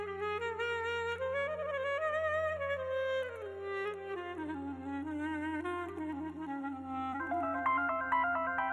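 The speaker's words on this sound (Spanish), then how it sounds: "está sonando tu teléfono" A mobile phone ringtone in the TV series Elif plays a bright electronic melody of stepped tones, steady and fairly loud, with no talking over it.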